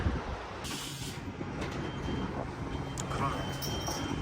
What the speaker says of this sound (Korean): 방금 기차가 아까 온 거는 오른쪽에서 왔었거든? 근데 지금 이거는 왼쪽에서 왔어